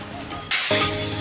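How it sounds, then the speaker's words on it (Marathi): Heavy rain starts abruptly as a loud, dense hiss and holds as a steady downpour. "दुपारनंतर जोरदार पाऊस बरसला"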